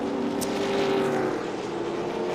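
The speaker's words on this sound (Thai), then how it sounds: "ลีลาการเข้าโค้งของรถเททูนั้นมันเร้าใจครับ จังหวะสไลด์นี่มันลอยลำใหญ่ ๆ มาทั้งคันครับ" A TA2 race car corners and slides at Chang International Circuit in Thailand, its engine producing a steady, sustained drone at moderate distance, with no talking over it.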